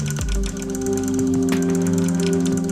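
Singer 15M sewing machine winding a bobbin with the needle disengaged, a steady close mechanical whir and ratcheting hum running continuously and loudly throughout.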